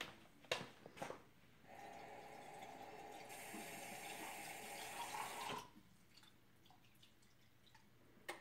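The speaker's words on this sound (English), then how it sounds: "I think I'll add just a little bit of water." Water poured into a chicken casserole dish in a home kitchen, a steady trickling stream lasting about four seconds, close and moderately loud, framed by a few brief knocks before and after.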